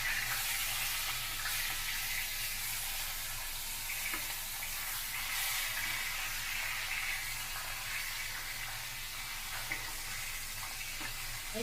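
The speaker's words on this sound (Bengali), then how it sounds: "এই সাইডটা ভালো করে এখন ভাজবো।" Rohu fish pieces frying in hot oil, just turned to cook the second side: a steady, even hiss of sizzling throughout, close by, with no talking.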